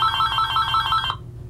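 A telephone ringtone trills steadily and loudly at close range, a bright warbling electronic ring that cuts off abruptly near the end, with no voices over it.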